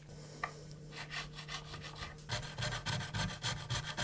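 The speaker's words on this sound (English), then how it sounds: "So I'll have to file these two just a little bit lower with a fret crowning file." Guitar frets are filed with a fret crowning file: steady back-and-forth rasping strokes, close and fairly quiet. After a few scattered scrapes the strokes settle into an even rhythm, with no talk.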